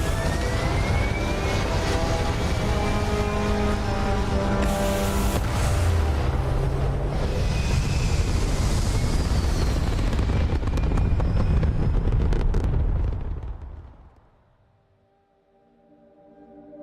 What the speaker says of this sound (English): Engines burning.